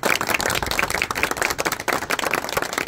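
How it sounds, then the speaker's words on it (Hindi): A crowd at a tournament prize presentation claps in dense, irregular bursts, close and fairly loud, filling the short moment without any talking. "एक दफा भरपूर तालियां सबके लिए"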